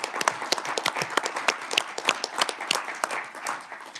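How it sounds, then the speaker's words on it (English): Committee members at a House agriculture and natural resources hearing give a round of applause, a cluster of nearby individual claps in an irregular rhythm, fairly sparse and close, with no talk over it. "if you would give her a great round of applause for everything."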